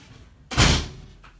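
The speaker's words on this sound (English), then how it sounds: "Let me close the door real quick." A door in an adobe house in Peru is pushed shut with one soft, close thud, heard alone in a quiet room.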